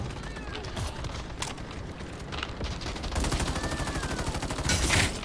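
Rapid gunfire in a first-person shooter game with a Turkish interface, with bursts of shots and a heavier volley near the end, heard under a voice.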